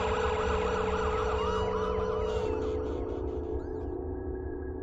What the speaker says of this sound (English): The siren of the police cabs came floating in the air from